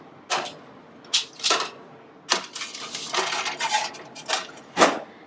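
Metal tray clattering and scraping as it slides into a home oven or toaster oven with a Shrinky Dink on it, a series of sharp, close clinks and knocks spread over several seconds.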